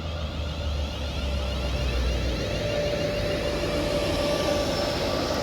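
British Rail Class 350 electric multiple unit pulling into Bletchley station on the West Coast Main Line, heard as a steady whirring hum with a faint rising whine, constant and moderately loud, with no talk.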